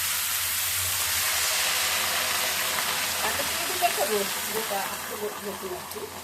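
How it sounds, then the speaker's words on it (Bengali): Red amaranth greens drop into hot oil with fried garlic, giving a dense steady sizzle and steamy hiss, with faint scraping and a low background hum. "রসুনটা ভাজা হয়ে গেলে লাল শাকটা ছেড়ে দিচ্ছি।"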